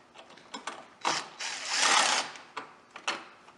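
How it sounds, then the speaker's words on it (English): A hand ratchet with a 10mm socket clicks in quick irregular bursts, up close, removing bolts on a 2016 Jeep Trailhawk, with one longer run of rapid ratcheting in the middle. "Using a 15mm socket to remove the bolts and a 10mm socket to remove the nut."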